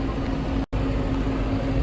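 Steady tractor engine drone with a constant low hum while hauling hay, running close and loud, broken by one brief dropout.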